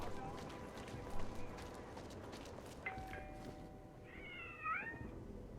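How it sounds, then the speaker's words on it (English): A cat meows in the video game Deus Ex: Mankind Divided, a couple of faint, rising cries over soft game ambience and distant footsteps. "Am I going crazy? I heard the cat."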